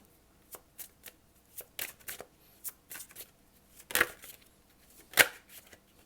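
Tarot cards shuffled by hand in a series of quick, crisp riffling bursts with short pauses between them, close and fairly quiet, two louder flurries near the end.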